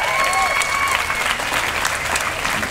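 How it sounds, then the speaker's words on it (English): Applause from an audience at a climate crisis event, a steady dense wash of clapping sustained throughout without pause. "Applause for Duke."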